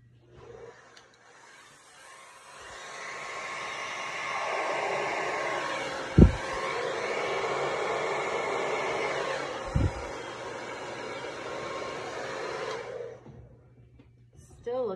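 A hair dryer blowing across a poured paint artwork, rising from quiet into a steady close whoosh for about ten seconds with two sharp knocks, then cutting off.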